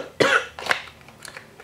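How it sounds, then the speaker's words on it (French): A person coughs twice in quick succession, close and sharp, followed by a couple of softer throat-clearing sounds. "Très amusant de tousser tout le temps comme ça m'énerve"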